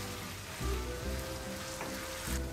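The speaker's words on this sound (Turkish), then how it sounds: "Harcımızı ara ara çevirerek güzelce pişiriyoruz." Ground meat mixture for bolognese sauce sizzles steadily in a hot pan, with a few soft scraping stirs breaking through the constant frying hiss.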